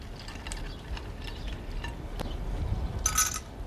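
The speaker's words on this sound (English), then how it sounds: "And some ice cubes." Ice cubes dropped into glasses holding lime wedges, giving scattered clinks and rattles against a low background noise, with a bright cluster of clinks near the end, close by and without speech.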